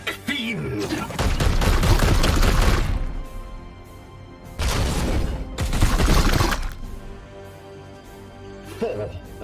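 Loud gunfire bursts from Warhammer 40,000: Chaos Gate Daemonhunters, with two long heavy volleys of crashing shots and impacts, a quieter stretch between them and a faint tail at the end.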